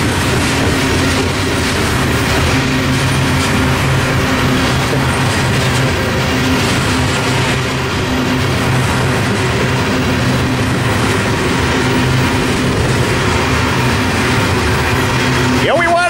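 A grain train hauled with a CP heritage unit rolls past, a loud sustained rumble of wagons and wheels with rhythmic clacking over the rails, a faint squeal near the end, and voices talking underneath.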